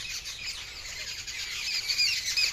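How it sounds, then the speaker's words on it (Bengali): A cockatoo at a small zoo gives repeated harsh, high squawking calls mixed with chirps, moderately distant, over steady outdoor background noise with no talking. "ওই কাকাতুয়াটা তো খুব ডাকে"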